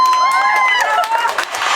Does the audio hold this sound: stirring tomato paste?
no